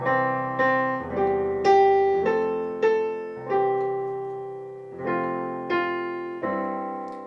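Piano chords in second inversion with G in the bass, struck one after another at a steady, unhurried pace, each ringing out and decaying before the next, with no voices.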